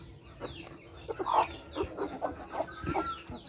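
Chinese Silkie chickens in a backyard coop clucking softly, a series of short low clucks and murmurs at moderate distance, with no talking over them.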